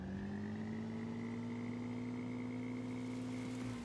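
A steady car engine in Roblox Bloxburg hums at an even idle with a slight rising pitch, droning continuously and fairly close.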